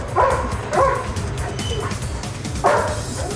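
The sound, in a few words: police dog barking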